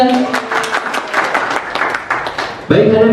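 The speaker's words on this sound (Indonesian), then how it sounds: "Tepuk untuk kita semuanya." An audience of preachers at a training session applauds in a lively rapid patter of many hands for over two seconds, then a speaker's voice cuts in loudly as it fades.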